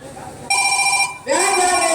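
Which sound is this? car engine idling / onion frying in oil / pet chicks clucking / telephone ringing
telephone ringing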